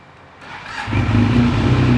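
A 2018 Benelli TRK502 motorcycle fitted with an aftermarket Akrapovic-style exhaust starts quietly, then its engine rises into a loud, steady rev with deep exhaust rumble, close up and without speech.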